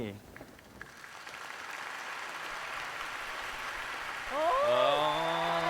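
A studio audience on a Thai televised singing competition stage applauds steadily in a dense, sustained wash of clapping, with a voice and tonal music rising over it near the end.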